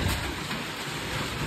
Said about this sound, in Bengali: হ্যাঁ, জোরে পড়ছে বৃষ্টি।